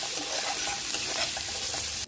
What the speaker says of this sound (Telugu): ప్యాన్ తీసుకొని అందులో ఒక గరిట ఆయిల్ వేసి 1 స్పూన్ జీలకర్ర, కొద్దిగా కరివేపాకు, మనం సన్నగా చాప్ చేసుకున్న ఆనియన్ వేసి బాగా ఫ్రై చేయాలి